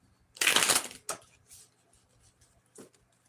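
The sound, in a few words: shuffling tarot cards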